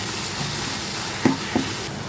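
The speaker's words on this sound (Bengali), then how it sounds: "ঢেলে দিয়ে আমি ভালোভাবে ভেজে নেব" Onion and poppy seed paste with garlic sizzles in a pan, a steady soft hiss with two brief clinks or stirs near the end.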